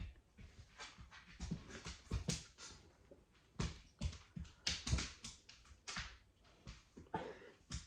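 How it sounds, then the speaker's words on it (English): Several dogs play nearby with a rapid run of irregular scuffling, thumping and panting bursts, close and moderately loud, with no voices. "The dogs are playing."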